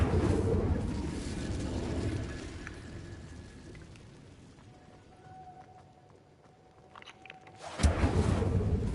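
An Incendio fire spell is cast in Hogwarts Legacy: a loud broadband whooshing roar at the start fades to a faint hum, then a sudden burst of flame noise returns near the end.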